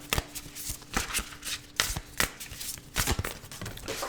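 Oracle and tarot cards being shuffled by hand, with rapid irregular riffling and slapping bursts that repeat through the passage, close and crisp, with no voices.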